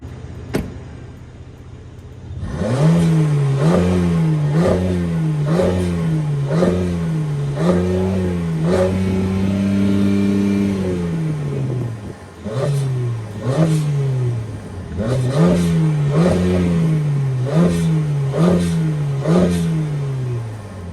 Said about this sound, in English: Let's take a listen to what the twin-turbo V6 and the SL sounds like.